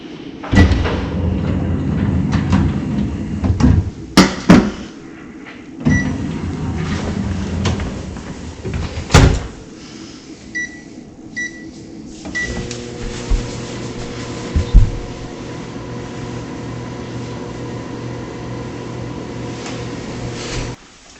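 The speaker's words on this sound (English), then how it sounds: "Zach, would you be so kind as to put this in the microwave and melt it?" Clunks and clicks of a microwave oven door opening and shutting, followed by a steady low hum running for several seconds with occasional beeps as butter melts.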